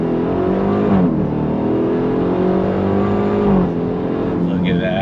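A 2025 Dodge Durango Hellcat Hammerhead SUV engine pulls hard on throttle, a loud, steady, rising roar with pitch sweeps as it climbs through gears and briefly dips; a faint chirp near the end, no talk over it.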